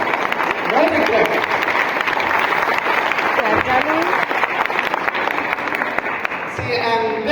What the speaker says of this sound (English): So please give him a big round of applause with him.